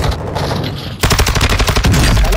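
Dense automatic gunfire in Warzone 2, a rapid minigun-style burst hammering loudly and continuously after a brief lull, heavy and close with no talk over it.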